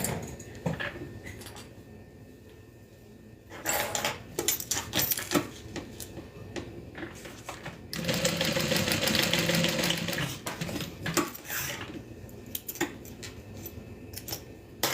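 A sewing machine stitches a crossbody bag in short mechanical bursts, the longest a sustained whirring run near the middle, separated by quieter pauses and small handling clicks.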